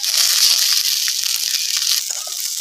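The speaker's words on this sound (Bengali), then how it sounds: "এবারে দেব কুচে রাখা ধনে পাতাটা, এটা হালকা করে ভেজে নেব।" Chopped coriander leaves fry lightly in a pan, giving a loud, continuous bright sizzle with faint stirring scrapes near the end.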